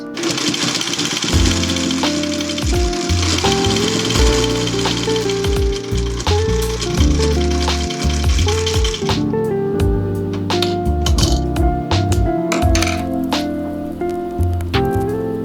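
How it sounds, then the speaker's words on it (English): A sewing machine top stitches the edges of a fabric makeup bag with rapid, loud mechanical chattering in bursts, then slows into sparser clicks and thumps near the end. "sewing machine and I'm going to top stitch on both edges"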